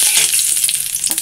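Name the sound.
black cumin and bay leaf tempering in fish-frying oil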